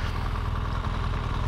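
An off-road motorbike engine runs with a steady, close, low rumbling drone that holds at a fairly constant level for the brief moment, without any voices.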